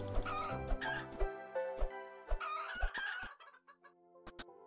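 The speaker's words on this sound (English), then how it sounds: "Get the chickens!" Chickens in the video game Planet Centauri cluck and squawk in repeated short, bright calls over a busy game soundtrack, then taper to a few sparse clucks.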